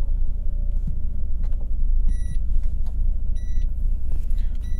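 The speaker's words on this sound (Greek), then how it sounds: "Όταν επιλέγετε η όπισθεν, ακούγεται πάντα αυτό το ηχητικό σήμα." A car engine idles with a low rumble while a repeating electronic beep sounds in short pulses, the chime warning that reverse gear is selected on a Selespeed gearbox.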